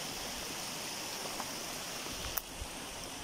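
River water flows at Presa Piedra Azul in Teotitlan del Valle, Oaxaca, a soft steady wash of rushing water with a faint click or splash near the middle.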